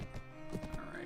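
Horse hoofbeats at a gallop while riding in the Mount and Blade video game, rapid clip-clop thuds mixed with game ambience and a voice talking briefly.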